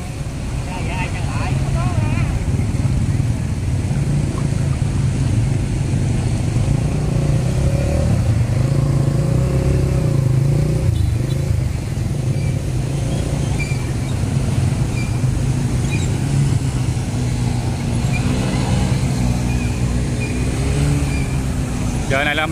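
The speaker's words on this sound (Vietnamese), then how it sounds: "Giờ này là mấy cái tiếng xe nó rống luôn á, do nó ngập nước lên cái bô á." Motorbike engines roar continuously along a flooded national highway in Cần Thơ after a storm, with water up in their exhausts and rain still falling. The roar is loud and dense, and a voice may be talking under it.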